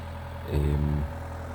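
A four-wheel tractor pulling a five-furrow plough runs in a field while peas are being planted, its engine rising to a louder, steady low drone for about half a second before easing back to a quieter idle hum.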